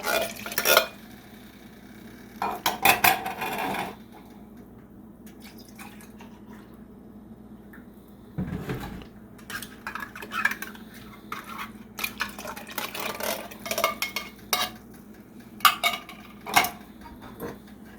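Loaded potato soup is stirred in a pot, giving intermittent scraping and clinking of a utensil against the metal with soft liquid sloshing, in bursts separated by quieter pauses.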